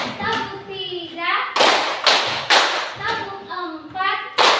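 A group of children claps in unison during a classroom ice-breaking clap game, with several sharp bursts of rapid clapping alternating with the children chanting in between.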